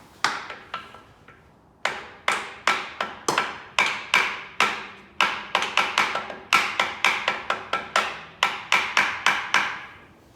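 Metal hammer strikes on an engine part of a Polaris Trail Boss 250 two-stroke ATV: dozens of sharp, ringing taps in uneven bursts, close and loud, with brief pauses between clusters.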